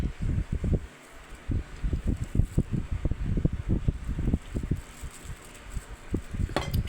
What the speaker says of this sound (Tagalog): Ano ba yan ang hangin?